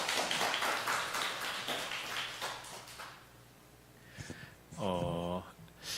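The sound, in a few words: audience applause welcoming a speaker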